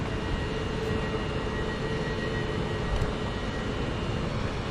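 A Class 331 electric multiple unit pulls away from a platform at Bolton station, giving a steady, fairly loud rumble with a faint electric whine that holds level throughout, with no voices.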